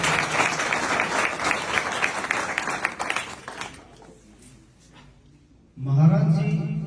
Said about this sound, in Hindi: जोरदार क्लैपिंग।